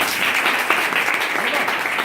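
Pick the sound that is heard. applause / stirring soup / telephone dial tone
applause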